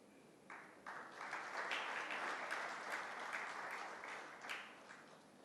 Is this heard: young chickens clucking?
no